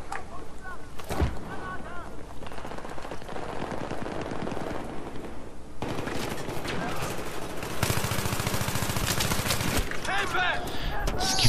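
Gunfire in Battlefield 3 multiplayer rattles almost without pause, with rapid automatic bursts and explosions layered into a dense, continuous battle din.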